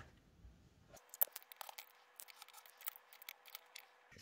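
Scissors snipping through a piece of card, a close series of crisp, uneven cuts and rasps after a brief rustle.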